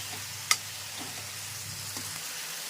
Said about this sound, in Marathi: हाय फ्लेमवर हे सगळं होऊ द्यायचं आहे आणि सतत हलवत राहायचं आहे